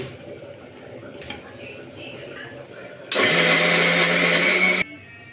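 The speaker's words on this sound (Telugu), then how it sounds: "సో దీన్ని అయితే మనం ఇప్పుడు మిక్సీ పట్టుకుందామండి" A mixer grinder whirs loudly for nearly two seconds, blending urad dal with coriander into a thick batter for vadas. It cuts in abruptly after a stretch of quiet kitchen sounds and stops just as suddenly.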